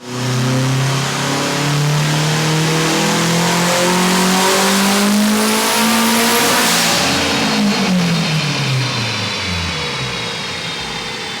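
A turbocharged 8th-generation Honda Civic engine revs hard on a dyno pull, its pitch climbing steadily under boost before dropping off sharply near the end, loud and close with no talk.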